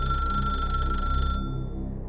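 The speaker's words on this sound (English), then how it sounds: "Then the phone rang a 3rd time." A rotary telephone in a bedroom rings loud and shrill, a fast mechanical bell trill that stops abruptly partway through, leaving a low hum.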